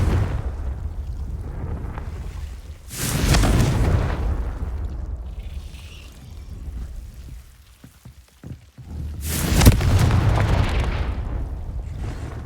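Confringo blasting spell fired in the Hogwarts Legacy video game, heard as two loud booming explosive bursts a few seconds apart, each rumbling and then fading, with quieter crackling in between.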